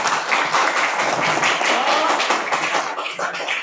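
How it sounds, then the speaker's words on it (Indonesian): A class of schoolchildren clapping their hands together in a steady, dense patter that fills the room, with some voices mixed in over the clapping. "Tepuk tangan untuk kita semua ya."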